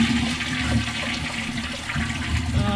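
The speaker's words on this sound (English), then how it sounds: "Did you see the water running down?" Water from a leaking pipe pours down in a steady, fairly loud rush, splashing continuously with no pauses and no voices over it.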